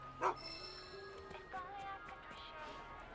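A dog barks in Final Fantasy VII Rebirth, one sharp yip near the start and then softer whimpering calls over a steady game music bed.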